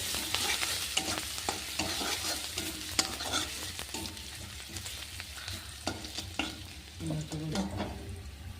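Chopped garlic and ginger fry in a pan with brisk stirring, a close sizzle broken by repeated spatula scrapes and taps at an uneven rhythm, without any talk.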